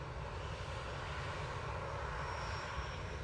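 A Ryanair Boeing 737-800 departing Manchester Airport for Venice gives off a steady, fairly faint jet engine roar, a constant broadband rumble with no pauses or voices.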